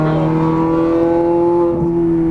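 A Ferrari F430 Scuderia on a racetrack accelerates out of a corner under throttle, its engine a loud, steady, high-pitched wail that rises slightly in pitch.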